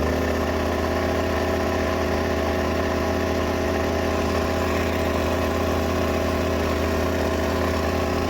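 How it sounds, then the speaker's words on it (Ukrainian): A Champion Dual Fuel 2200 W inverter generator runs under a 2 kW load, a steady, continuous mid-pitched engine drone with a constant hum, close and unchanging throughout, with no talking. "спробуємо навантажити на 2 кВт. Вмикаємо навантаження."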